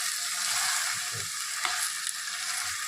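Chicken pieces coated in ginger paste fry in a pan for a chicken fry, giving a dense, even sizzle with faint stirring scrapes and no talk.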